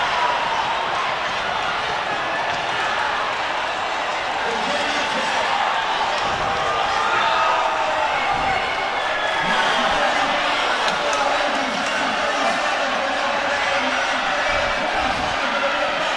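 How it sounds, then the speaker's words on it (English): A large crowd cheers continuously through a men's distance medley relay at a collegiate track championship, a steady roar with bursts of shouting, heard under an announcer's ongoing commentary. "The crowd here is loving this."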